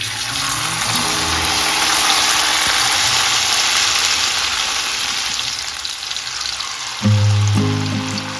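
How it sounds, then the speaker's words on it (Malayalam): Beetroot slices fry in hot oil with a dense, steady sizzling hiss, interrupted near the end by a brief clatter of a utensil; no voices are heard. "എണ്ണ ചൂടായ ശേഷം ഈ ബീട്രൂട്ട് എണ്ണയിലേക്ക് അങ്ങോട്ട് ഇട്ട് കൊടുക്കുക"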